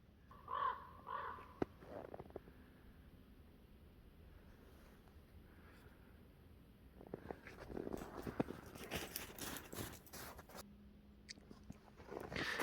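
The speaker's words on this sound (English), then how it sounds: "You gotta be crapping me. There's a raven." A raven calls in woodland, a few hoarse caws near the start, with footsteps and rustling and more loud crunching as someone walks through the undergrowth.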